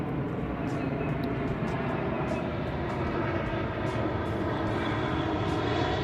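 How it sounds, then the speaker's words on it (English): An airplane flies overhead, its broad steady engine roar filling the whole stretch at moderate distance with no letup. "plane flying overhead."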